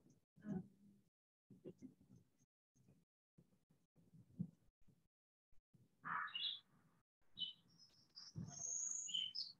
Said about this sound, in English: A friend of mine calls it the zipper bird because it goes zip.